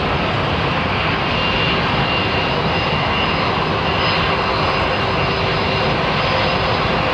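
Boeing 787 Dreamliner jet at London Heathrow, a steady, loud broadband roar of aircraft engines filling the whole span without a break, with no voices over it.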